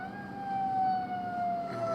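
An ambulance siren wails along the road, a steady tone sliding slowly downward as it passes close by, loud and without talk.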